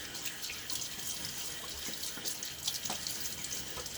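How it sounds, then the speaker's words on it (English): Tap water running into a sink and splashed onto a face before a shave, a faint, steady trickle with small splashy bursts, heard alone. "so a little water in my face."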